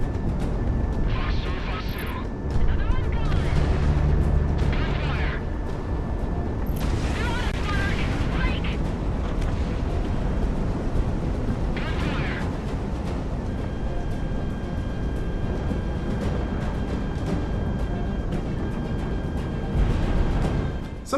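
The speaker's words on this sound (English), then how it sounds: "I'll just shoot everything I have because, well, standard missiles are still alright for the most part" Standard missiles fired and exploding in a video game: deep booms and rumbling blasts over a steady roar, with sharper launch bursts near the start and midway through the passage.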